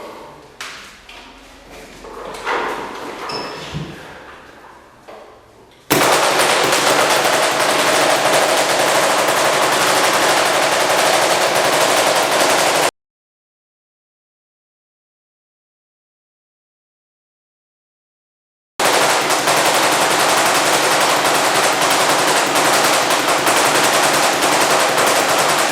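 Paintball marker fed by a Spire 260 loader fires long rapid full-auto strings, a dense loud burst sound cut off abruptly, preceded by a few handling clicks and thumps.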